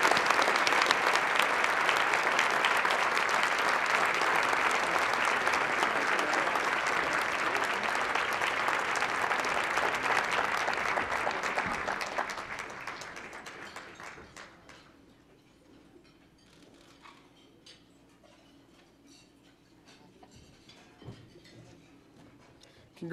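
A large audience at a charity gala applauds Youth of the Year candidates, dense sustained clapping for about twelve seconds that then tapers off into a quiet room.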